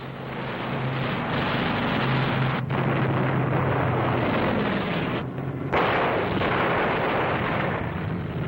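WWII aircraft gunfire tearing into German planes over Mortain, France: a loud, continuous roar of rapid firing and blasts, with brief breaks in the barrage.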